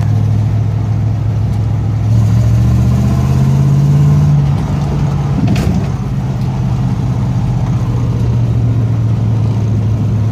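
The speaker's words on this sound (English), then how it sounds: "give it a little gas, make it move" A 1970 Pontiac Trans Am with a Ram Air III engine rumbles loud and close, its low drone climbing in pitch as it revs, then easing back to a steady idle.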